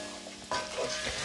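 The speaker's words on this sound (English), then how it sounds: "We're gonna kind of let this fry out" Mutton frying in a pot, a quiet close sizzle that jumps louder halfway through as the meat is stirred or shifted, with soft scraping; brief and without talking.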